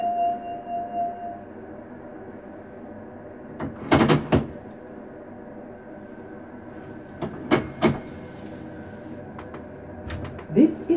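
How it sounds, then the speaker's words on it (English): Train doors on a Transperth train in a train simulator game, a few loud thumping clunks and rattles spaced apart over a low hum, with a chime at the start. "Doors closing."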